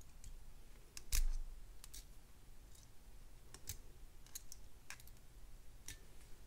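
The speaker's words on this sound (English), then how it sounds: "Snip off the excess" Small cutters snip off excess jewelry wire while a necklace is being made, giving one crisp, close click followed by a few faint scattered ticks in a quiet room.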